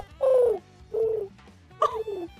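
A human voice imitates a pigeon cooing, three short descending warbling coos separated by brief pauses, close and clear.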